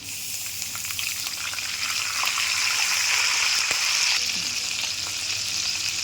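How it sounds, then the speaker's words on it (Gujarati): A small glass of water hits hot oil in a pan, setting off a steady, loud hiss and sizzle that swells and holds throughout. "એક નાનો ગ્લાસ પાણી લીધેલો છે એ નાખશે"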